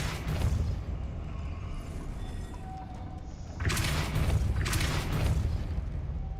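Depulso spell effect in the Hogwarts Legacy video game, a broad whooshing burst with a rumbling low end that swells twice in quick succession over a steady ambient bed.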